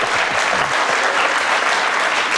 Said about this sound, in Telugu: ఒక్కోసారి ఏవి వినకపోయినా సరే ఆ చప్పట్లు వస్తాయి.